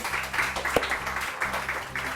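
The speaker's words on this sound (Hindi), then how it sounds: "बहुत सारी तालियां आलिया टीपू के लिए" Studio audience on a Pakistani morning TV show applauding an arriving guest, fairly soft, busy clapping mixed with background music.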